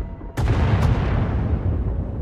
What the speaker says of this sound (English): Sounds like the bombing's getting closer.